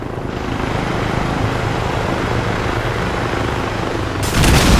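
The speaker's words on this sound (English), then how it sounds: "Now I hear a helicopter." A helicopter is heard near and overhead, a loud, steady rotor and engine roar filling the whole clip and swelling slightly louder at the end, with no talk.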